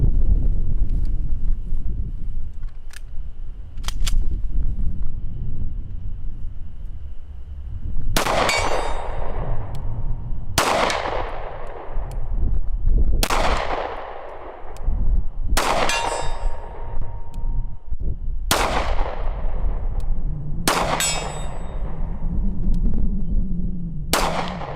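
An HK P30 9mm pistol fired outdoors, about seven sharp, loud reports spaced a second or two apart with ringing echoes, after a few faint metallic clicks and under steady wind noise.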